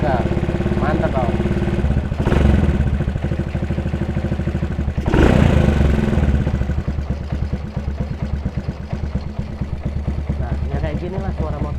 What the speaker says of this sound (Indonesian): Inilah suara motornya.